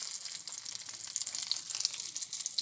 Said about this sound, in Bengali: তেল দিয়ে দিলাম, তারপরে দিয়ে দিচ্ছি কাঁচামরিচ